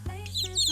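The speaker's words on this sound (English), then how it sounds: "Chicks are fluffy little birds that love to peck at the ground and chirp." Chick chirping, a few short high-pitched peeps in quick succession over a low steady hum.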